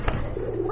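A female pigeon of a thin-necked pigeon breed at a pigeon seller's, giving a short, soft, low coo close by, with faint background murmur.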